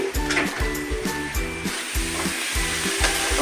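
Chopped tomatoes sizzle and fry in a hot pan while being stirred, with rhythmic scraping strokes repeating under a steady crackling hiss, close and clear with no voices.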